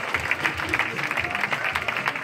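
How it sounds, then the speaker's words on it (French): Applause from the audience at a stage hypnosis show, brisk overlapping clapping at an even level through a short stretch, with a faint voice underneath. "Et je voulais que vous applaudissiez très fort."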